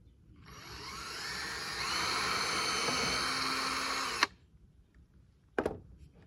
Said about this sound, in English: I'm gonna pre-drill here.